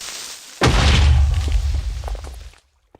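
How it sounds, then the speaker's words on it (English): Creeper exploding in Minecraft: one sudden loud deep boom that rumbles and decays over about two seconds before cutting to silence. "I see a creeper. Not that hard. I switch my shield and just let him explode on me."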